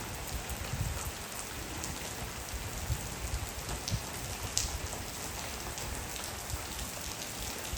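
Heavy rain over farm fields hisses continuously, with scattered drops tapping nearby; no voices, just an even, unbroken downpour.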